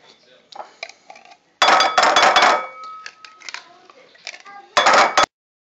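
Sour cream gravy being mixed in a bowl, with bursts of loud spoon scraping and clinking against the bowl separated by quiet gaps and a few soft voices.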